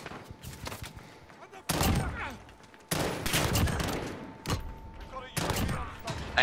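Video game gunfire comes in dense, rapid bursts of shots, loud and close, broken by short pauses, with a faint voice talking underneath.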